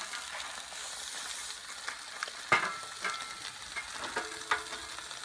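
Ham sizzles in a Dutch oven with a soft, steady frying hiss. A few sharp metallic taps and scrapes punctuate it near the middle and end, all fairly quiet and close.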